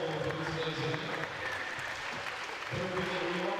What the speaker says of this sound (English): the fans in the house giving the Owls a little round of applause to appreciate their efforts